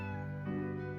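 A cat meows in the Professor Layton vs Phoenix Wright video game, one short, harmonic, voice-like call that swells slightly in its second half, clear and close.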